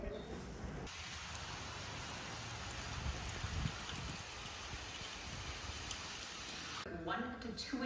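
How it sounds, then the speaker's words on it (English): Light drizzle falling outdoors in Central Florida during Hurricane Nicole, a soft continuous hiss of rain with faint patter and breezy background noise, quiet and without talk. "It's drizzling right now."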